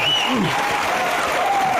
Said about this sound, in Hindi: एक बार हमारे मल्टी टैलेंटेड स्टार के लिए जोरदार तालियां